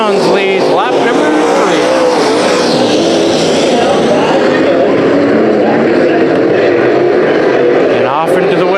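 Dirt track race cars roar in a loud, continuous engine howl during heat races at Bakersfield Speedway, the pitch rising and falling as they pass, with an announcer calling the race over the noise.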